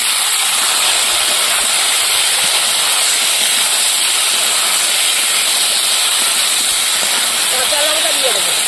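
Mete alu (air potato) fruit, onion, crushed garlic and five-spice seeds fry in hot oil in a village-style kitchen. The sizzle is a loud, constant hiss, and faint voices sit under it.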